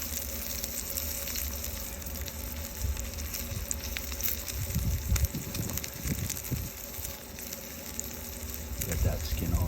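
A duck breast sizzles steadily in bacon fat on a Traeger grill as its skin crisps, a constant close frying hiss broken by pops and crackles as the meat is flipped.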